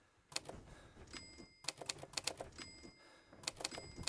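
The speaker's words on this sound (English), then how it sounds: "So are we typing again?" Rapid bursts of typewriter-style key clatter in the video game EDEN, arriving in several clustered runs with short pauses between them, fairly close and clear with no talking.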